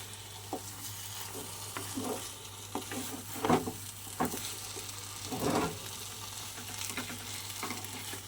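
Taro leaves frying and being stirred in a pan, a steady sizzle broken by repeated scraping stirs and a steady low hum underneath.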